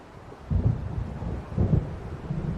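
Low thunder rumbles in a stormy night in the video game Alan Wake Remastered, two deep swells of rolling rumble under a faint wash of rain and wind.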